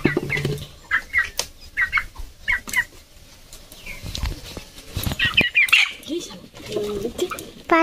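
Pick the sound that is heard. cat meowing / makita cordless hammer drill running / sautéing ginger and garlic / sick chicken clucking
sick chicken clucking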